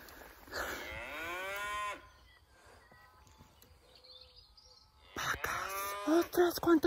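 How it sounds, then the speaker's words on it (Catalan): A herd of cows moos in long, drawn-out calls, one near and loud at the start and more overlapping at the end, with quieter background sounds and faint bird calls in between. "Ostres, quantes vaques!"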